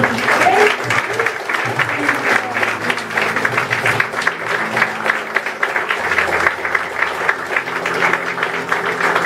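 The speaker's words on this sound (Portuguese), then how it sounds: "Irmãos, aplaudam o nome de Jesus" A church congregation at an evangelical service claps together in praise, a loud, close, continuous wash of hands with a low sustained organ or keyboard tone running underneath throughout.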